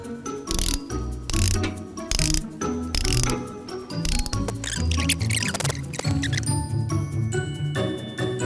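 Ratchet wrench clicking repeatedly while tightening bolts on a planer under repair, a steady busy run of close metallic ratcheting with jingling tool noise throughout.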